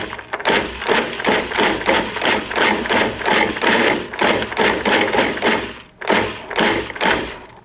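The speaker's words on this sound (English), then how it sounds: "So I'm just going to let the food processor run on a pulse." Coconut flakes with green gel paste color are pulsed in a food processor, producing about a dozen loud whirring bursts in an even rhythm, each cut off by a short pause, close up and alone with no talking.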